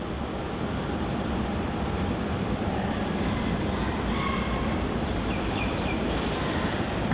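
An airliner taxiing towards Terminal 2 at Melbourne Airport, a steady broadband jet engine roar that holds at an even level throughout, with a faint whine rising near the end.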